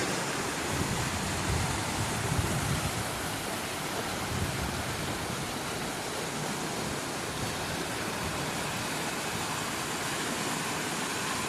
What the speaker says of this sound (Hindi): नदी की ये कलकल धारा